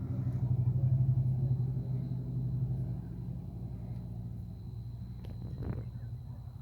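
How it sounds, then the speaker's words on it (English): A truck revs its engine outside a house, a deep continuous rumble that swells loudest early on and then holds steady as a low idle, with a faint sharp knock near the end. "He's probably a war boy because he keeps revving in front of my house."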